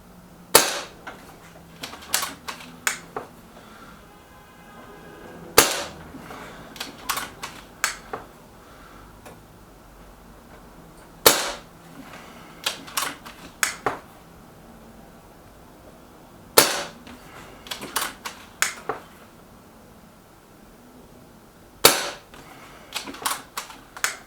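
A Reximex Ixia compact pellet air rifle fires shots at a card target: sharp, close cracks spaced about five seconds apart, each trailed by a cluster of smaller clicks and ticks from working the action.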